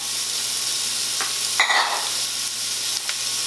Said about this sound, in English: I kind of want to try to get those little bits of pieces from the seared meat.